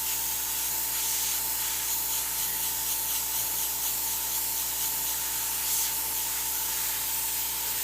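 An airbrush at higher pressure sprays white paint onto a scuffed black aluminum panel, giving a steady, close, unbroken hiss with a faint constant tone beneath it.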